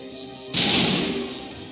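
A sniper shot in the video game Mass Effect on Noveria, a single sharp, loud report that bursts in after a quiet moment and fades over about a second.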